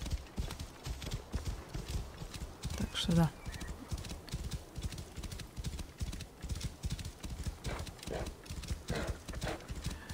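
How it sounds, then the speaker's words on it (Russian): Hooves clip-clop steadily under a warhorse galloping through Assassin's Creed Syndicate, with an occasional whinny and someone talking over the rhythmic beats. "Мой верный боевой конь."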